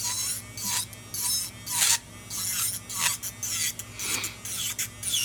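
Acrylic nails are filed in quick, close, rasping strokes, about a dozen short scrapes in an uneven rhythm.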